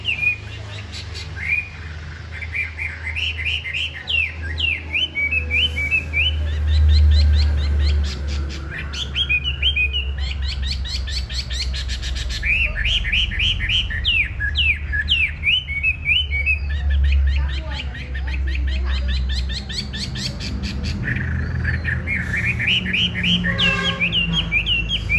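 A caged Chinese hwamei songbird sings loud, close, rapidly varied whistled phrases in long continuous bursts, with only brief pauses, over a low steady background hum.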